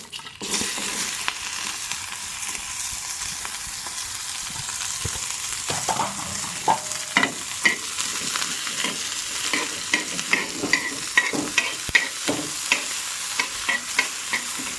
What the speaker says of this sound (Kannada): ಸ್ವಲ್ಪ ಎಣ್ಣೆ ಹಾಕುವ ಈರುಳ್ಳಿ ಫ್ರೈ ಮಾಡಲಿಕ್ಕೆ